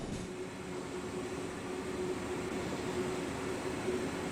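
An RBB 1020 electric locomotive hauls a train on the steep Mittenwald line in Train Sim World, giving a steady rumbling roll with a faint tonal hum over it and no talking.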